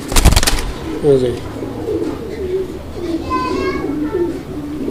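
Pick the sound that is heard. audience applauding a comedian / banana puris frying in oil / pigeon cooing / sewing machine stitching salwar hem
pigeon cooing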